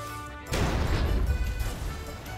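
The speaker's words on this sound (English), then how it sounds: "Another car hit my car." In a Roblox game, one car slams into another with a sudden loud crash, and a rumbling impact and scrape continue for a couple of seconds afterward.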